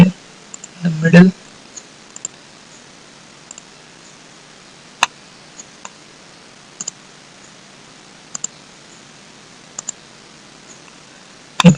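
Sparse, sharp mouse clicks from modelling slabs of a multi-storey apartment building in SAP2000 software, single isolated clicks spaced a second or two apart over a quiet room background, with a brief burst of voice near the start.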